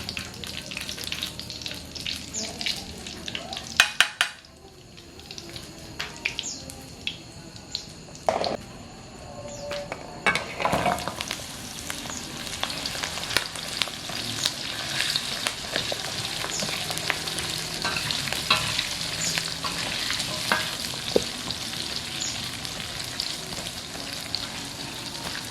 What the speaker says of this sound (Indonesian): kita mau goreng jengkol